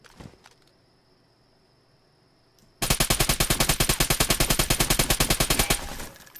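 A Zastava rifle fires full-auto through a wall in a video game. One loud, fast burst of rapid shots lasts about three seconds after a quieter stretch with faint clicks.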